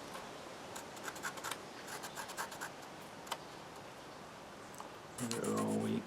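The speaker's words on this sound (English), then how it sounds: "and then just quickly run round it with a pencil" A pencil scratches in short, faint strokes, tracing around a knife handle outline in a quiet room, ending in a louder rustling burst.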